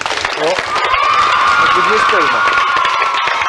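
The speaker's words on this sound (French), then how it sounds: "Je crois vraiment qu'on peut l'applaudir" A studio audience of children at a French television show applauds and cheers: dense, loud clapping with excited shouts and rising voices throughout, overlaid by a sustained tone in the mix.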